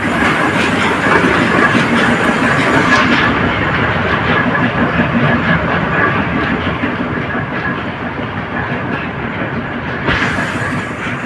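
A traditional kolhu oil press runs at a rural mill, giving a steady, loud rhythmic rattle and grinding clatter with dense broadband mechanical noise throughout, alone with no talk.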